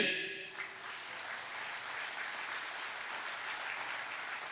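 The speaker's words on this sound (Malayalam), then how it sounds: "ഒന്ന് കൈയടിച്ചേ." A church congregation claps steadily and evenly throughout, a broad wash of many hands at moderate distance, fairly soft overall with a faint voice at the very start.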